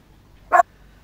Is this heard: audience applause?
no